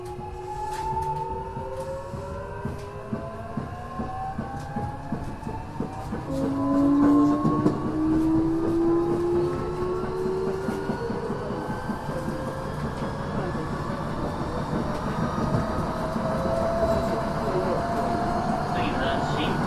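A Tokyo Metro 6000 series train with Mitsubishi IGBT-VVVF control runs on the Joban Line as a local service, its rising and falling motor whine sweeping up over steady wheel and rail rumble heard from inside the car, with brief talk early on.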